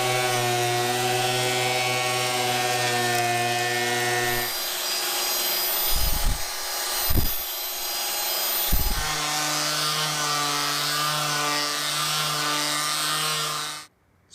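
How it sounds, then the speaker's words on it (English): A wood planer drones with a steady motor whine, its pitch dropping as boards are lightly planed with rough cutting bursts, then it winds down and stops. "we're going to run them through the planer very lightly to get rid of that"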